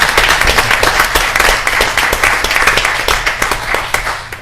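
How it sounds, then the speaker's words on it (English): Loud, close clapping from people at a board meeting, a retirement tribute held in a room with a low steady hum underneath, keeps going without a break and with no voices. "Could we keep that round of applause going just a moment longer for Vicki"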